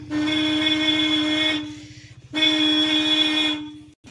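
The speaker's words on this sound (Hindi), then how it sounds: "यानी कि बड़ा हॉर्न बज रहा है" A vehicle horn wired through an L-type switch blares in two long, steady electric honks separated by a short pause, loud and close with no speech.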